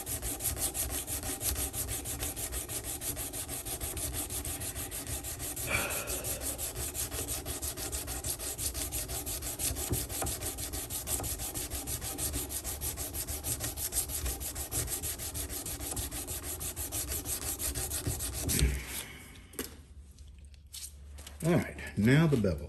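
Wood being sanded by hand with worn sandpaper, a steady close rubbing scrape that continues throughout before it stops with a few brief knocks.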